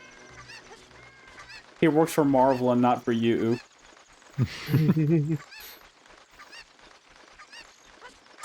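Cuccos, the chickens in Ocarina of Time 3D, let out two bursts of squawking honks over the game's background, with a man's speech mixed in around them.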